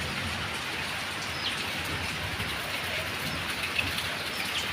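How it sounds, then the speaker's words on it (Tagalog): Heavy rain falling steadily, a dense even hiss of drops striking surfaces, constant throughout at moderate loudness with no talk. "Lumalakas ulit guys ang ulan."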